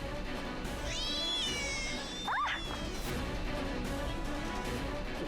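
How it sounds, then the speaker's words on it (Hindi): A cat meows a few times up close, drawn-out rising cries over a steady background hum, with a brief knock in the middle. "ये देखो, नई बिल्ली"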